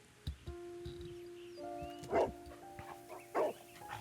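Dog barking in the Sherlock Holmes: Crimes & Punishments video game, two short distinct barks spaced about a second apart over a low steady hum and faint background tones.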